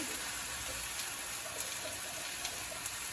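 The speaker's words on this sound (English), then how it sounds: "Wash my hand" A kitchen tap runs steadily while hands are washed under it, a continuous close gush of water with small splashes and no talking.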